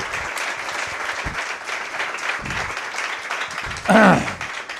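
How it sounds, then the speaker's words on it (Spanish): Audience at a book presentation for the philosopher's book "Era de idiotas" gives moderate, scattered applause in a hall, with a few sharper claps and a brief burst of voice near the end. "Un aplauso para el gran Vico."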